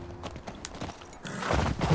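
Hooves of a horse in the video game The Last of Us Part II clop in a quick brief run, growing louder and heavier toward the end of the short stretch, with no voices.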